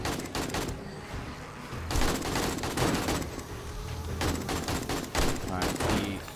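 Rapid gunfire during a horde night fight in the video game 7 Days to Die, dense overlapping bursts of shots in clusters with brief pauses, loud and sustained, with voices talking underneath.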